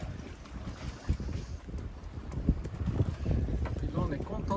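A small sailboat off the Turkish coast lurches in choppy waves with little wind, giving low creaks, thumps and water sloshing under steady wind rumble on the microphone, with irregular knocks throughout.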